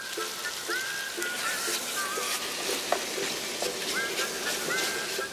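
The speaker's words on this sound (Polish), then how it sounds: "bardzo rozgrzany tłuszcz i podsmażę mięso z każdej strony jakieś jedną minutę" Thin beef strips for stroganoff fry in very hot fat in a pan, giving a loud, continuous crackling sizzle up close. Bursts of scraping and a few squeaky whistling tones break through now and then.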